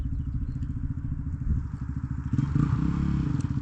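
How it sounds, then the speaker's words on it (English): 1995 Suzuki RM125 two-stroke dirt bike engine bogging, a low uneven chugging idle that stumbles and rises slightly toward the end, close and alone. "Bogging real weird on me."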